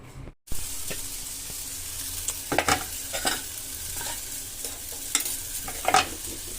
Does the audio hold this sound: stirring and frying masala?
yes